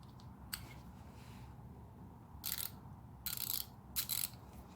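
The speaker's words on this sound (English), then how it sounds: "3/8 drive, 120 position dual pawl quick release ratchet" A Craftsman 3/8-inch drive, 120-position dual-pawl quick-release ratchet gives several short bursts of fine clicking, quiet and close, separated by pauses.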